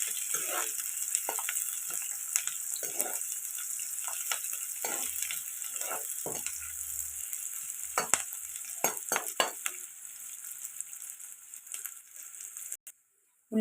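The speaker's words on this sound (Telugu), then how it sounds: "ఉల్లిపాయలు ఇలా ఫ్రై అవుతున్నాయి కదండి." Onions and green chillies fry in a pan with a steady hiss of oil, broken by frequent spatula scrapes and taps close up, before cutting off abruptly at the end.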